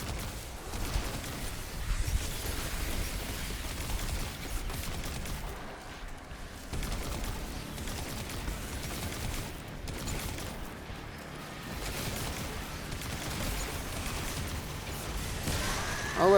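Dense, steady video game gunfire from a shooter firing special ammo, a continuous rattling barrage that runs throughout at moderate loudness with only brief dips.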